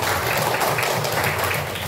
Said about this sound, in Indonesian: Sekali lagi tepuk tangan untuk Radia